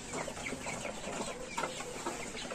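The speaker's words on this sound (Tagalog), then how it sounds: "Ayan ang bago tang rooster." A young Rhode Island Red rooster clucks in short repeated bursts amid farmyard ambience, moderately close and fairly soft, with no talking.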